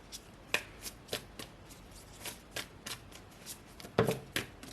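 Oracle cards shuffled by hand make a string of soft, papery riffs and flicks at an irregular pace, close and fairly quiet, with a denser burst near the end and no talking.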